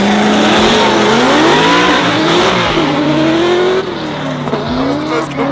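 Drift cars rev loudly at Yas Marina Circuit in the UAE, with close, sustained engine roar and rising and falling pitch sweeps, plus some tire squeal. The engines ease slightly near the end.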